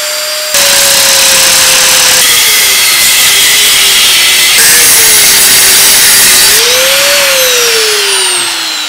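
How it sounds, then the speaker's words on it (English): A power saw cuts steadily through a metal gear on a 2012 Ford Focus Mk3 1.6-litre five-speed manual gearbox, giving a loud, continuous close-range grinding whine whose pitch sags and rises as the blade bites. "My last resort today to get this gear off is to cut it off."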